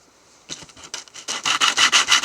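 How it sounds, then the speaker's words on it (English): Wood being sanded by hand, rough abrasive strokes starting after a quiet moment and growing steadily louder and faster into a continuous rhythmic back-and-forth scrubbing, close and alone. "Finish the sanding process, please."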